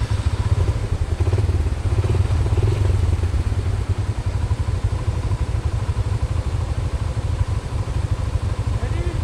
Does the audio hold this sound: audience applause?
no